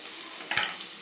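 Ground spices, cumin and Kashmiri chilli powder, fry with onion and tomato in a pan for a masoor dal with bottle gourd and potato, giving a brief, close sizzle that swells in one short burst.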